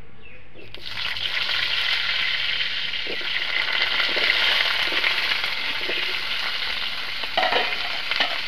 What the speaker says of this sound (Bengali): এবারে আমি তেল দিয়ে দেবো, আলুটা ভাজবো